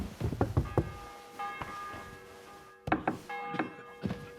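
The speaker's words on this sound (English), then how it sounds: "The bell's ringing for Hans the 5th time." A church bell tolls in the video game Kingdom Come: Deliverance 2, giving several resonant ringing strokes with hollow thunks between them. The strikes ring out clearly and fairly close, and each one hangs on after it sounds.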